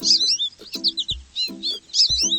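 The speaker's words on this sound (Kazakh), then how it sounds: "Қызыл үйшіктің ішінен қызыл торғай ұшып шықты." Sparrows chirp in quick, bright bursts, several clustered calls repeating in a steady rhythm, close and clear with a low thud between some bursts.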